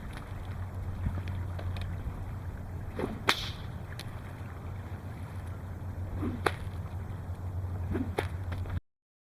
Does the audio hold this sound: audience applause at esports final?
no